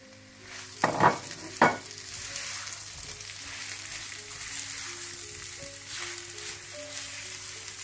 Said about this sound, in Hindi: इनको अच्छी तरह से आप मिक्स कर लें और थोड़ा सा भून लें।